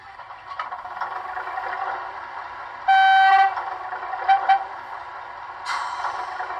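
A DCC sound-equipped Class 03 model diesel shunter cold-starts: a steady hum runs throughout, with a bright horn tone briefly midway and a couple of short clicks and hisses.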